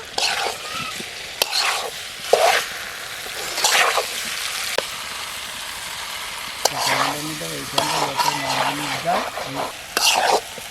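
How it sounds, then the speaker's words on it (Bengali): Fried potatoes being sautéed with spice paste for aloo dum give a soft, continuous sizzle broken by repeated spatula scrapes and stirring strokes, with a brief low voice partway through. "এবার আলুটা দিয়ে মশলার সাথে আবার একটু কষিয়ে নেব"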